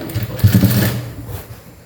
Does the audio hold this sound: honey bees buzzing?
no